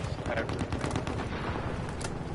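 Single-shot weapon fire in a video game, heard as a few sharp bursts over dense, noisy game sound, loud and close, with no clear rhythm.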